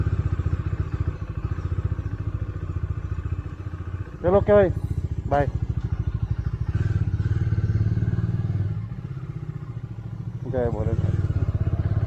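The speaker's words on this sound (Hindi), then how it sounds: "और अपनी बाइक वार्म होती हुई।" A motorcycle idles while warming up in the early morning, a low steady engine rumble running throughout, with someone talking briefly over it.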